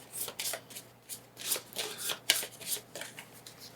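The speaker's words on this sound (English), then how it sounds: "Then I take my deck of cards," A deck of playing cards is given a quick shuffle at a table, with repeated soft riffling bursts and papery flutters and taps close by, no talking.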